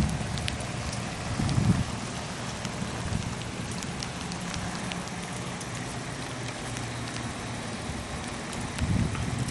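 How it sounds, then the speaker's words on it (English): Rain pours down steadily with a broad, even hiss, drops pattering on surfaces, and a couple of low thumps. "We got done with it and it just started raining"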